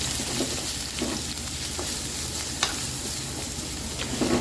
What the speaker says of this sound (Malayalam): വെളുത്തുള്ളിയൊക്കെ ഒരു ഗോൾഡൻ കളർ ആയി വന്നതിന് ശേഷം അതിലേക്ക് കുറച്ച് സവാള ഇട്ട് കൊടുക്കുക